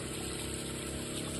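A small water pump pushes water through a tall run of hose into another tank, a steady whirring hum under a constant rushing gush.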